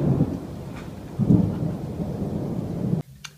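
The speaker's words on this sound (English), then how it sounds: "And there goes the thunder." Thunder rumbles from a thunderstorm over a porch, a deep rolling boom with a louder swell partway through, ending abruptly into quieter rain.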